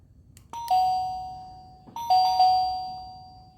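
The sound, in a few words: doorbell button pushed, ringing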